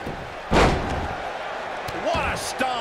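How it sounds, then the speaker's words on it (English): A wrestler stomps an opponent in an AEW TBS Title Tournament match in a wrestling ring before a sold-out crowd: one loud thudding slam, then duller impacts amid steady crowd noise and commentary. "What a stomp."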